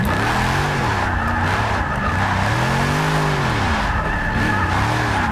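A Dodge Challenger Hellcat drifting in Forza Motorsport 6, engine roaring and rising and falling with throttle while tires squeal continuously and loudly throughout, no talking.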